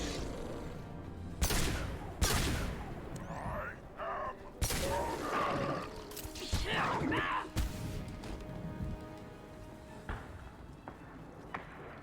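Single-shot gunfire in the Mass Effect 2 Legendary Edition Tuchanka mission, sharp separate reports spaced a second or two apart with game effects and clatter between them.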